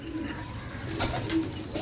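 Pigeons offered for sale coo in a few soft, low, throaty calls close by, against a quiet background with faint rustling and no talk.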